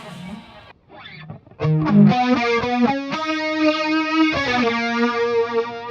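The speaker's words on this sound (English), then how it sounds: "Way more flangey, phasey." Distorted guitar notes played through a sweeping flanger-phaser effect on a 2290 P Dynamic Delay pedal, giving a whooshing, swirling metallic tone, loud and close.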